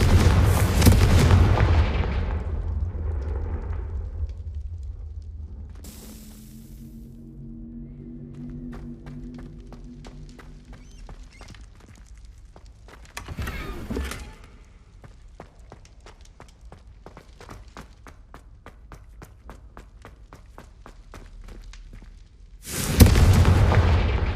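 Fiery spell explosions from Hogwarts Legacy land as heavy booming blasts, one opening, another midway and a final one at the end, with game effects and quieter ambience between them.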